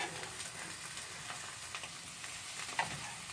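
An omelette sizzles in a frying pan while cooking at home, giving a steady, moderately quiet crackle with faint stirring or scraping touches and no talk.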